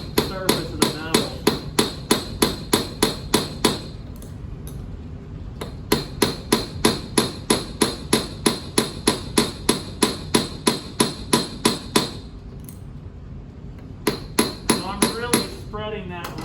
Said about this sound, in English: I'm kind of hammering it down in that countersink